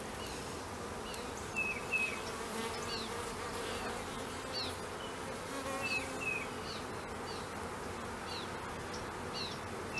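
Honeybees from a relocated feral hive hum in a dense, continuous buzz during an open-hive inspection, with individual bees droning close by at moments and no speech.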